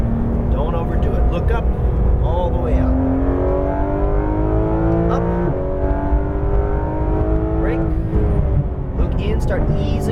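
A Porsche GT3 RS 991.2 howls around a race track, its engine note loud and close throughout, pitch climbing with acceleration then dropping through a downshift as the driver eases off, with a coach talking over it.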